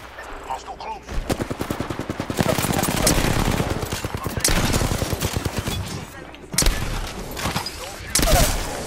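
Rapid automatic gunfire in Apex Legends rattles in a long, sustained burst, loud and close, and then breaks into shorter bursts followed by a few heavy single shots.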